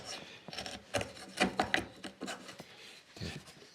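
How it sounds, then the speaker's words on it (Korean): A small chisel pares a wooden joint for traditional Korean lattice window making, producing close, quiet scraping strokes in short irregular bursts. "이렇게 애끌로 이렇게 다듬어 주는 거예요"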